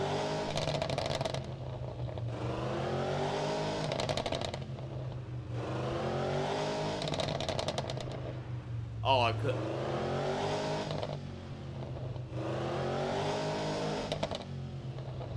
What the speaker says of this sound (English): It sounds like a proper V8 crackle would do.